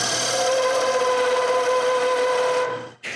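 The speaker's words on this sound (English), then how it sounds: "So I try with the sander." Power sander smoothing a wooden cane with a steady, loud, continuous whine and hum that holds for about three seconds, then cuts off abruptly before a short burst resumes.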